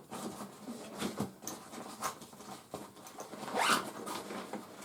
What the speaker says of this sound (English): So if you unzip this zipper, you have access to the entire